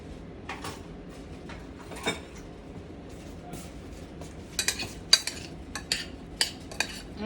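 Metal spoons and cutlery clatter in a kitchen during cooking, with scattered sharp clinks growing busier toward the end over a low room hum.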